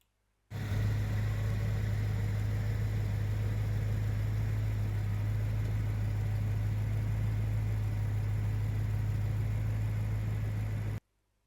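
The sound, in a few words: BMW M3 engine running at idle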